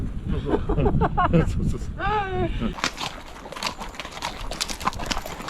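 Hooves clop on hard ground at a walking pace, with a horse's whinny briefly rising in the middle and some background noise.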